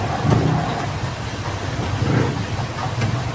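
Road traffic at a crash site on a busy road, a steady close roar of car, bus and truck engines with swelling passes and a faint horn, no speech.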